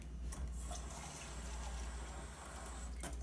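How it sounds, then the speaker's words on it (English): Water poured into a pan of red coconut curry, a steady broadband pouring and gushing that runs for about three seconds at moderate level, without speech. "you can add water."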